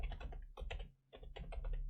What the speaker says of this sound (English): So let's go down here, type in a new comment